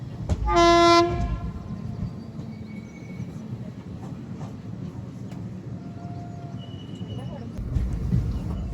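A train on the railway near Dharmavaram junction gives a loud blast of its horn, then a steady rumble and clatter of wheels on the rails continues underneath, close and sustained.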